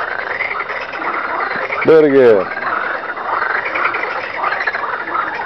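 A single loud frog croak, a harsh, buzzing call lasting about half a second, stands out over a steady outdoor background hum, followed by a brief spoken phrase.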